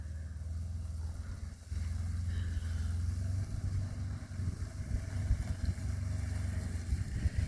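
A Polaris XP900 UTV runs near a barn on a Kentucky farm, its engine a steady low rumble that dips briefly before picking up again with uneven throttle swells, with no one talking.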